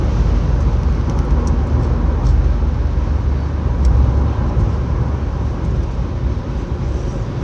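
Steady, loud motorway traffic roaring past continuously, a dense broadband rush of cars with no pauses or talk.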